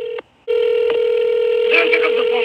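Telephone call-line tones during a reconnect, a loud steady electronic tone broken by a short gap and brief clicks, with a faint voice underneath near the end.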